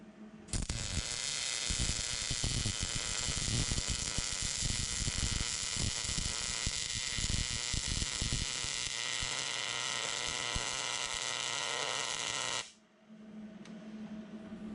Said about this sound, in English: that's a good sounding weld and it looks good.